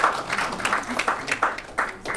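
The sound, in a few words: audience applause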